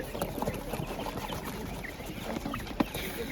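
Purebred broiler chickens cluck at a market in Ukraine, scattered soft clucks and rustling close by over busy ambient noise, with one sharper call standing out near the end.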